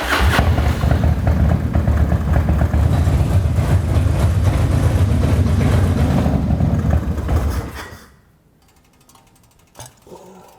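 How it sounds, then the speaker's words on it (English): A motorcycle engine runs loud and steady right up close, idling on a workshop floor after a service, with mechanical ticking and clatter throughout, then cuts off abruptly near the end, leaving near silence with a couple of faint knocks. "start it up, get the engine up to operating temperature so I can check the oil level"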